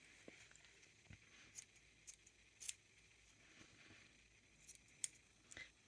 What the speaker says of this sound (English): you can just go around with your scissors